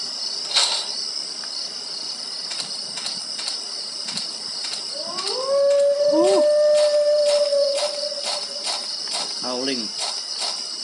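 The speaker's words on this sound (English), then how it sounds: "Howling." A long, eerie howl from Silent Hill 4: The Room on PS2 rises and holds over a bed of chirping crickets, with sharp clicks and a commentator talking around it.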